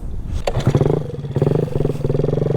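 A GY6 139QMB scooter engine with a Polini 95mm kit is kickstarted, giving a sharp kick and a brief sputter before it catches and runs in a rapid, throbbing idle close by.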